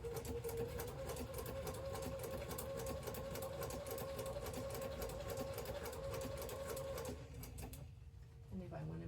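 Sewing machine running a blanket stitch for appliqué, a steady close mechanical whir with fast regular needle ticks that stops near the end, leaving a brief quieter tail.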